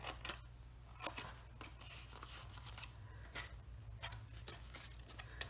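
Scissors snip through a paper treat box in a quick series of sharp, close cuts, irregular crisp clicks and slices over a quiet background hum.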